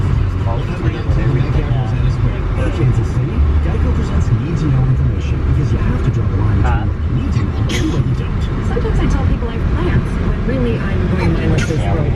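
Busy road traffic heard from inside a car driving through Overland Park, Kansas: a steady, loud rumble of engines and tyre noise with passing vehicles, and faint voices in the background.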